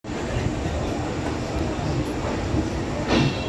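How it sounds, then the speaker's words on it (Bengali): A departing train rolls along with a continuous, close rumble and rhythmic wheel clatter, steady in loudness, with voices faintly audible beneath the noise. "জাস্ট ট্রেন ছেড়েছে।"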